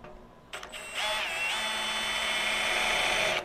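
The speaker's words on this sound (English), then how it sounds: "it's going to be drilling through that metal" A power drill whines steadily as a Hercules cobalt step drill bit bores through metal, a high grinding tone that holds for a few seconds after a brief start.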